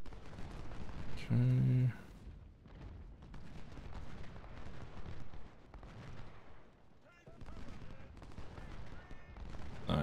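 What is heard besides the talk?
musket volley in video game Ultimate General: Civil War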